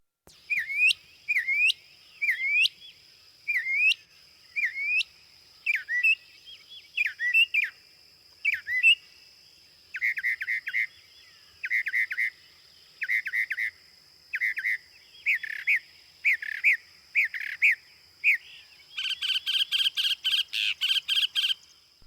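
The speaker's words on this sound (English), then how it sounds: "It is the northern mockingbird's voice that most distinguishes it from other birds." A northern mockingbird sings clear, repeated phrases, each note given several times before switching to a new pattern, ending in a rapid burst of chattering notes; close and loud, with no other sounds.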